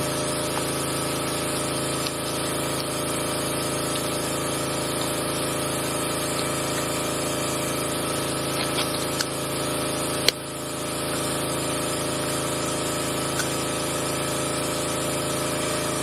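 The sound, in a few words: cryocooler running while making liquid nitrogen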